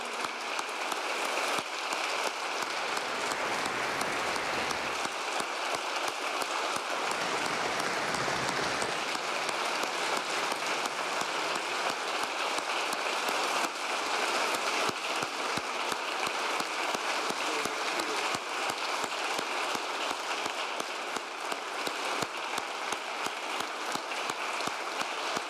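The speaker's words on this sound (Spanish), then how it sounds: "Un minuto de aplausos." Sustained applause from a large audience at a memorial tribute to boxing official José Sulaimán, steady dense clapping held for a full minute, fairly distant and even throughout with no talk over it.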